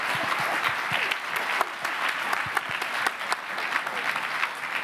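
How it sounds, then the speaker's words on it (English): Evening panel audience at a charity annual meeting gives a panelist a round of applause, a continuous even patter of many hands clapping, moderately distant and unbroken by speech. "So we need a clap."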